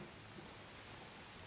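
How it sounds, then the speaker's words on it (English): Steady rain during a tabletop Dungeons & Dragons session, a dense even hiss of falling drops filling the whole moment at a constant low level, with no talk over it. "Especially over all this rain."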